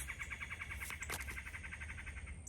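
Faint birds chirp in a rapid, even series of small tweets at a distance, set against a steady low background hum with no talking.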